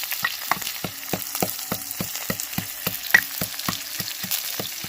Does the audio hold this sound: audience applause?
no